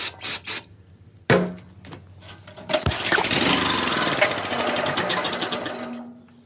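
A portable generator engine cranks with a few short pulls, then catches and runs with a steady, loud, close mechanical chatter that holds for several seconds before easing off.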